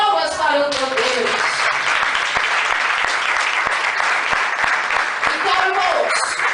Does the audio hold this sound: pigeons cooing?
no